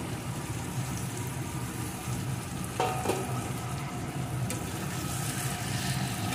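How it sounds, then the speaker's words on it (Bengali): Jackfruit and fried potato pieces sautéing together in a pan give a steady, moderate sizzle with a brief stirring scrape midway, continuous and close. "এখন ভেজে রাখা আলু টুকরোগুলোকেও এর ভিতরে দিয়ে একসাথে আরেকটু কষিয়ে নেব"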